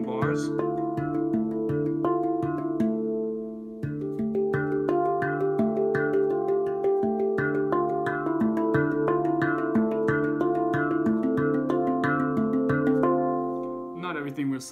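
Hands strike a handpan (hang drum) in an alternating pattern, giving a dense, continuous stream of ringing metallic tones with layered overtones. The notes sustain and overlap at moderate loudness for about fifteen seconds.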